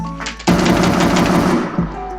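Rapid automatic AK rifle fire from a first-person shooter video game, a sustained loud burst lasting over a second, then a brief trailing shot over a background music tone.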